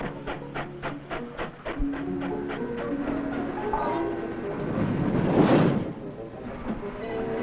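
A freight train rolls past, with rhythmic wheel clicks over rail joints and a rising rush of noise as cars go by, while someone talks over it.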